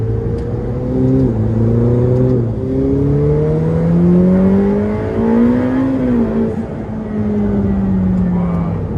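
A Ferrari F8 Tributo V8 engine revs up hard through several gear changes, not at full throttle, the pitch climbing and dropping back each time, loud and close.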